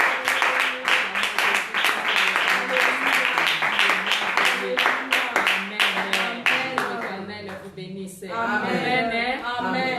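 A church congregation applauding Jesus Christ, dense rhythmic clapping close up for most of the time, then a voice speaking or singing over thinning claps near the end.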